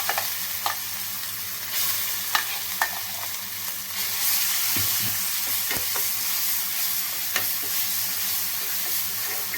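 Tempering spices splutter in hot oil for a chutney, a close, steady frying hiss dotted with scattered sharp pops and crackles and a few stirring knocks.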